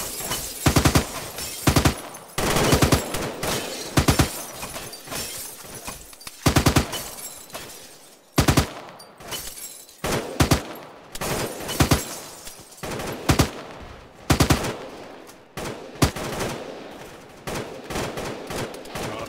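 Gunfire during a shooting operation, with repeated loud bursts and single shots at irregular intervals, sharp close cracks over a constant rumbling background and no talking.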